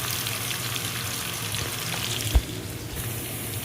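Onions sautéing in a hot pan in a home kitchen: a steady, moderately loud sizzle and crackle throughout, with one brief clunk of stirring midway, and no talk.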